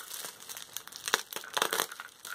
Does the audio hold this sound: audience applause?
no